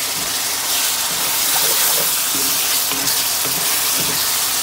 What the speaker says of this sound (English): as you're cooking it, it'll reduce and It'll start absorbing all that, cooking out all that extra fat and grease